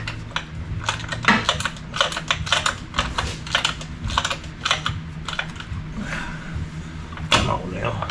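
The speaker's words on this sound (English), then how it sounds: "Let's run these bolts down, get them closer to the block" Bolts being run down on the engine block of a 1972 Chevelle: a dense string of close, quick metallic ticks and clicks from hand-turned hardware, steady and busy, with a voice talking over parts of it.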